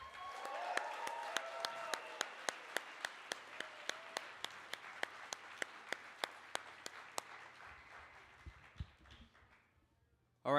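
Applause for Jordan Page at the PorcFest XXII festival fades out while one nearby pair of hands keeps clapping in a steady, loud rhythm, then stops, leaving a quiet room with low murmur.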